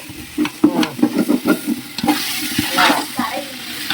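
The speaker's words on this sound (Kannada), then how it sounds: "ಎಲ್ಲ ನೀಟಾಗಿ ಇವಾಗ ಸ್ವಲ್ಪ ಟೊಮೆಟೊ ಹಣ್ಣೆಲ್ಲ ಸಾಫ್ಟ್ ಆಗೋವರೆಗೂ ಎಲ್ಲ ಫ್ರೈ ಮಾಡ್ಕೊತೈತೆ." Tomatoes and vegetables, including carrots and field beans, frying for biryani, with loud, close, rhythmic stirring and scraping over a constant sizzle.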